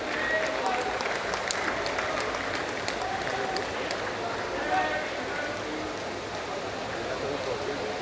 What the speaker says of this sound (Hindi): एक जोरदार तालियां, जोरदार तालियां।